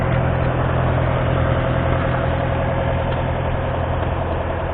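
An old gas engine runs steadily at the Tri State Gas Engine Show in Portland, Indiana, a loud continuous low chugging drone that holds an even pace throughout.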